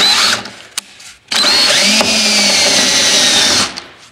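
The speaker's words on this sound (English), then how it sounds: "we're going to take the drill and make sure you have a bit that can cut through metal" A power drill whines loudly in two bursts, the second long and strained as it bites through a metal rivet on a jon boat, with brief clicks between.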